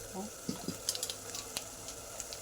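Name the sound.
spice masala roasting in a pan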